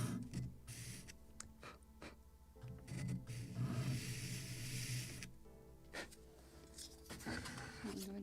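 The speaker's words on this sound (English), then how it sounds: "let me sand it again" Sandpaper rasping against a small wooden part of a model kit of the 1776 gunboat Philadelphia, in close, uneven rubbing bursts with brief pauses, fairly quiet, no talking.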